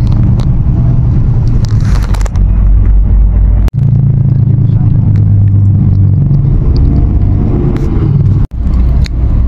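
A bus engine rumbles steadily at a bus terminal in Malaysia, a loud continuous low drone with two brief dropouts, with occasional voices in the background.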